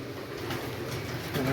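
Pigeons coo softly in a low, murmuring rhythm, fairly faint against a steady background hum, with no talking in between.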